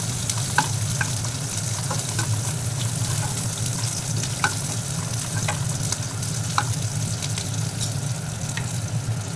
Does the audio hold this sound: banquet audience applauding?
no